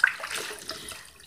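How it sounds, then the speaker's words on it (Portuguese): Tap water runs steadily while soap is rinsed off a pan at a sink, a short, fairly quiet burst of splashing flow with no talk over it. "A água aqui que eu tô enxaguando tá tão cheia de sabão"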